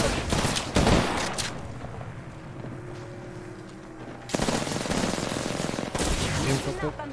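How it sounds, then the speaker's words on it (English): Apex Legends match with bursts of gunfire in the opening second and again from about 4.3 s onward, loud and close, rapid repeated shots between quieter stretches. "I'm getting shot at."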